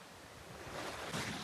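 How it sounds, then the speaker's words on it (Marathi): Water washing along the shore on the Konkan coast makes a steady, broadband rush mixed with wind, swelling slightly toward the end, with no voices. "पाण्याचा आवाज येतोय, खडखड खडखड खडखड खडखड"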